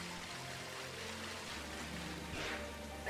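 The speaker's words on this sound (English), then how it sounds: "Alright, let's go hang out in the rain." Pokemon Sword in-game rain makes a faint, even patter that runs throughout, with a low steady tone beneath and no voices.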